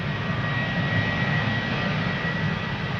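KLM airliner on departure at Amsterdam Schiphol Airport, its jet engines giving a steady, loud, broadband roar that holds evenly throughout without a break.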